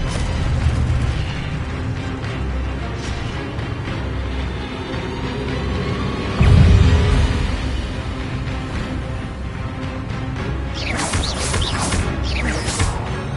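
A spell cast in the video game Hogwarts Legacy, heard as a sudden booming magical blast rising out of a steady rumbling game soundscape, followed later by bright crackling magic effects.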